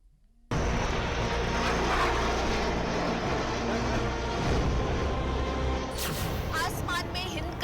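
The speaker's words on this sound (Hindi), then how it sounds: "आसमान में हिंद का नया लड़ाकू गरजा।" A Tejas fighter jet's engine roars loudly and continuously in flight, rumbling close by, with a brief burst of higher-pitched whine near the end.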